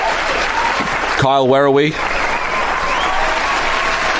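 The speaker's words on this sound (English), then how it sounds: "Thank you for the applause." A live audience at a wrestling-themed awards show claps in a steady, dense wash of applause that runs throughout, with someone speaking loudly over it for a moment near the start.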